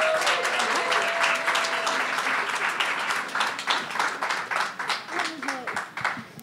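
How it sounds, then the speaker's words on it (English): An audience at an International Women's Day celebration applauds a supportive staff with sustained, dense clapping that starts full and gradually thins toward the end, while some voices and cheers mix in. "Can we please give them a round of applause?"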